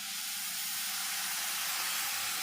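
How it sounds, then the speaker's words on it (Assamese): Boiled milk poured from a pot into ground rice flour makes a steady, close, even hiss that runs unbroken for a few seconds with no talking. "এয়া মই গাখীৰ অলপ দি ল'ম"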